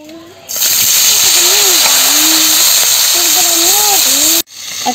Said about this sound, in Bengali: তেল দিয়ে মাছগুলো ভেজে নিই।